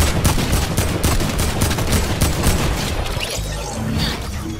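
Dense, continuous gunfire from the video game Fortnite, with rapid overlapping loud blasts and booms running through most of the stretch before easing slightly near the end.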